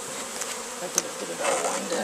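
A steady swarm of bees buzzing around a hive that is being robbed, a dense droning hum with individual insects flying close past.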